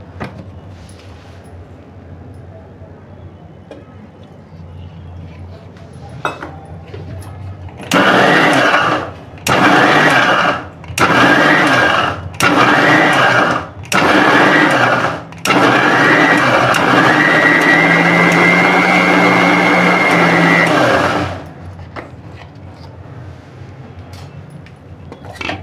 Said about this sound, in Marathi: आता आपण थोडा पाणी घालून घेऊ याच्यात।